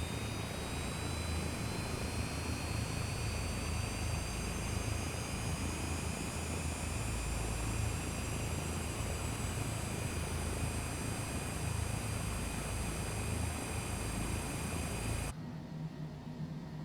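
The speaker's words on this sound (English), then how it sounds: "Second engine is starting." A Citation Longitude business jet's second engine spools up in Microsoft Flight Simulator, giving a steady, loud broadband roar with a slowly rising turbine whine that holds throughout and cuts off abruptly near the end.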